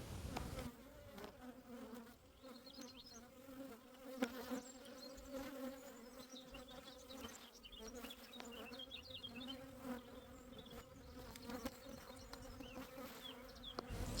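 Honey bees hum in a dense, continuous buzz around a hive during a hive inspection, steady and close, with individual bees droning past.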